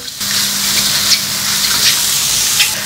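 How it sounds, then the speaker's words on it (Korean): King oyster mushrooms stir-fry in a frying pan with a steady, close sizzle that holds evenly throughout, with faint scraping touches from stirring and no voices. "버섯에 있는 수분을 프라이팬에 이렇게 볶으면서 수분을 날려주시면 됩니다."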